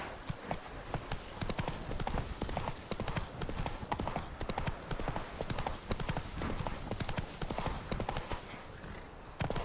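Roach, a horse in The Witcher 3, gallops with rapid, loud, evenly spaced hoofbeats that drum on steadily from start to finish, with a faint whinny mixed in.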